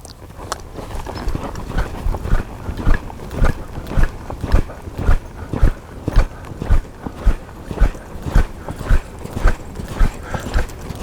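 Rhythmic hoofbeats of a horse at a right-lead lope in a pen, steady three-beat cadence on soft ground, close and continuous.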